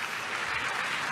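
A church congregation gives a short burst of dense, continuous applause during a sermon, with no voices over it.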